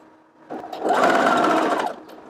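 A sewing machine stitches around the neckline of a lined child's dress, its motor ramping up into a steady fast whirring run of about a second and a half before stopping, close and alone.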